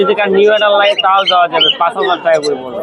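Cockatiels, including lutino and pied birds, squawk and chirp in a continuous busy stream at a crowded open-air bird market in Mirpur, with people talking close by throughout.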